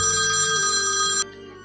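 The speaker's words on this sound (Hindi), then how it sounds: "तभी फोन आता है।" A telephone rings in a Hindi family drama, a loud electronic ringtone holding steady for just over a second before cutting off abruptly, leaving a quieter tonal tail behind it.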